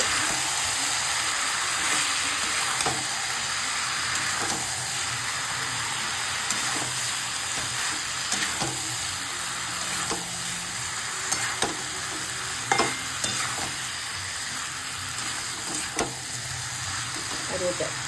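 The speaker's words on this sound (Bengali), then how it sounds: "এবার দিয়ে দেবো মাছটা। ভালো করে একটু নাড়িয়ে নেব।" Fish sizzles steadily in a hot pan while a spoon stirs it, a continuous frying hiss under scattered scraping clicks, close and constant throughout.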